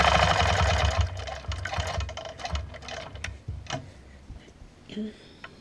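A quilting sewing machine stitches along a Taj ruler into the ditch of a quilt border, a fast rhythmic whirring burst at the start that gives way to quieter ticks and handling sounds.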